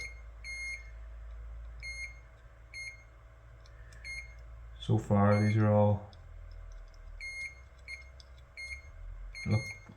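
A multimeter checking a Nintendo Switch OLED board gives a series of short, high, evenly spaced beeps, faint and clean, with someone talking briefly in the middle.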